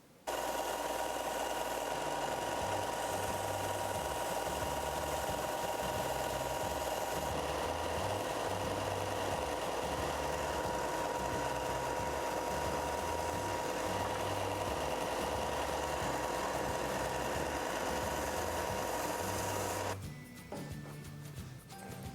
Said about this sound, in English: when I'm cutting with the jigsaw, I want to cut a little bit proud